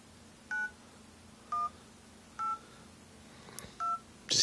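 Keypad DTMF tones from the phone dialer on an HTC HD2 running an Android Ice Cream Sandwich beta, four short separate beeps spaced about a second apart, clear and close over a faint background hum.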